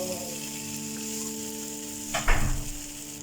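Jeera aloo, cumin potatoes, cooks in a pan on a low flame with a steady gentle sizzle over a faint hum, then a brief louder stir and scrape near the end.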